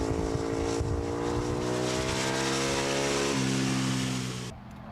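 Race bikes screaming around a circuit, a loud sustained high-revving engine whine that shifts pitch midway and cuts off sharply at the end.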